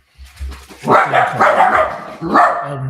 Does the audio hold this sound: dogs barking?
yes